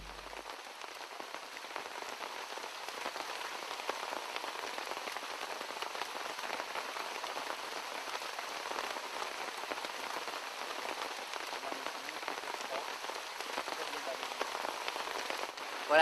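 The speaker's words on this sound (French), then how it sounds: "là la journée tourne court parce que de nouveau un gros orage" Heavy rain from a jungle thunderstorm hammers down steadily, a dense, even hiss of drops drumming on surfaces throughout, close and unbroken.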